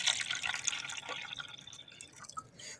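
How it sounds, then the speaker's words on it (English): Water poured from a cone into a cylinder gives a bright, splashing trickle, loudest at the start and thinning toward the end. "we're going to pour it into the cylinder."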